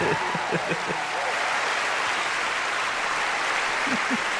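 Steady applause from a crowd fills the whole stretch at a constant level, with brief speech near the start and again near the end.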